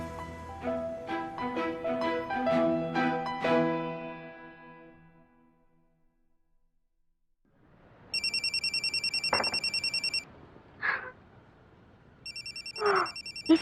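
A telephone rings loudly in two long electronic bursts, following a melodic tone that fades into quiet.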